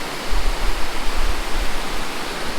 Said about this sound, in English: we did see a mini waterfall